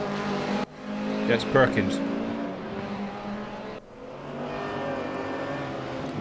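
Racing cars, a BMW among them, run at Suzuka in a racing video game, a steady engine drone with shifting pitch and a brief dip in the middle, while a voice talks over it.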